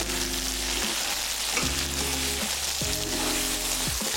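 Continuous sizzling of turmeric-fried chicken being stir-fried in chili sambal in a hot pan, steady and close, with a low humming drone running underneath in several stretches.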